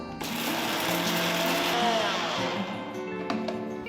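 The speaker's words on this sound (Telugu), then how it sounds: "ఒకసారి వీటిని బాగా మెత్తటి పొడి అయ్యేట్టు రుబ్బాలి" A mixer grinder whirs steadily as it grinds roasted spices into a fine powder for Tamil Nadu sambar masala, a loud, continuous motor drone with a brief dip and change in pitch near the end.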